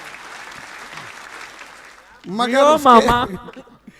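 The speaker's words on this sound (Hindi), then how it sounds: "एक बार जोरदार तालियां मामा जी के सम्मान में।" Applause from the audience at a Hindi comedy poetry gathering (hasya kavi sammelan), a dense burst of clapping and crowd noise that lasts about two seconds, rising loud after quieter murmuring.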